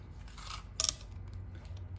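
A brief sharp snip of scissors cutting paper along a marked line, one crisp cut standing out over low background hum.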